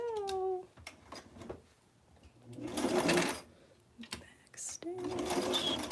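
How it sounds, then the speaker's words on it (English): A sewing machine stitches a small Barbie doll dress in a 1960s square dance style, running in bursts with a steady rapid whir, loudest in the middle, while a person talks softly at the start and end. "let's get this sewn up and then we'll do the other side"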